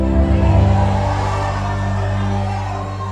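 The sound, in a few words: church congregation shouting and cheering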